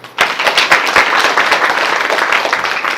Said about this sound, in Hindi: जिसको समझ में आया ताली बजाओ।